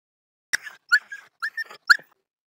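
A farm dog in the Philippine countryside greets its owner arriving home with a burst of excited yelps, squeaks and whimpers, four or five quick close calls spread over a couple of seconds, with no talk.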